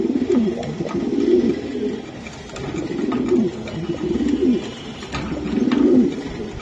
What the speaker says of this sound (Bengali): ডাকবে ভাই, প্রত্যেকটা কবুতর ডাকবে।